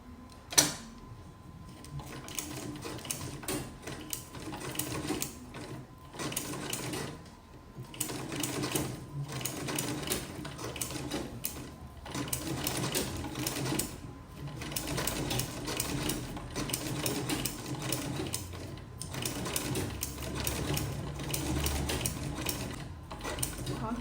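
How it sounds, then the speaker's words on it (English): A manual sewing machine fitted with a buttonhole attachment stitches a buttonhole, giving a steady, fast mechanical clatter that runs for the whole stretch at a modest level, pausing only briefly. "Continue sewing."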